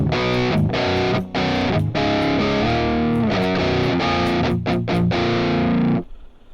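Heavily distorted electric guitar through the AmpRoots amp simulator chugs in dense, rhythmic palm-muted bursts with brief gaps, loud and close, then cuts off abruptly near the end.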